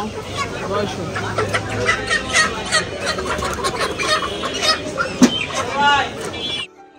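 Chickens at a poultry shop cluck and squawk steadily and close by, under a person talking and busy market noise.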